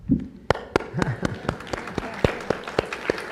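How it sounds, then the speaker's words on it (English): A lecture audience gives sparse, scattered applause, about a dozen distinct claps spaced unevenly with a faint voice beneath. "that applause was also for the question"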